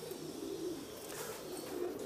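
A pigeon of a breed from Sialkot coos softly in low, steady repeated notes, fairly faint against light background noise.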